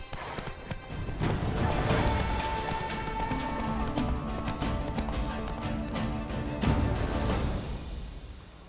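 Hooves of a horse galloping in The Witcher 3 video game, a steady rapid clip-clop under continuous game ambience and music, loud and sustained throughout.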